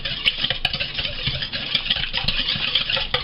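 A KitchenAid stand mixer whirs steadily as it mixes carrot cake batter, a continuous motor drone with light rhythmic knocks and scraping from the bowl, close and unaccompanied by talk.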